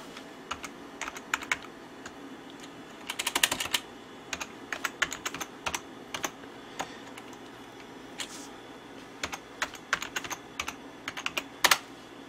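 Keys clicking on a Compaq Presario 2200 series laptop keyboard, irregular bursts of typing with brief pauses, close and fairly quiet, no talking.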